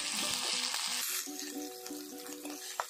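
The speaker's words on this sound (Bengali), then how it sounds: "আদা রসুন কাঁচা লঙ্কা বাটা। হালকা আছে ফ্রাই করা হইতেছে" Ginger, garlic and green chili paste fries in a pan, first with a loud bright sizzle that then settles into a softer crackle, while a spoon stirs and knocks against the pan.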